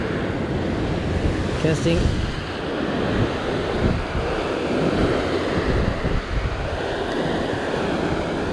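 Strong ocean swell breaking at a rocky sea fishing spot, a steady broadband roar of surf with gusting wind buffeting the microphone throughout, and someone speaking briefly over it.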